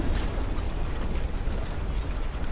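Torpedo hits exploding against a warship in the naval battle game Ultimate Admiral: Dreadnoughts, a loud, dense roar of blast and rumble that fills the whole stretch without a break or voices.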